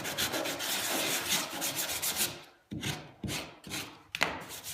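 A finger rubs excess glue off the joint of a wooden baseboard molding, giving steady dry scraping strokes followed by a few shorter separate rubs, close and fairly quiet.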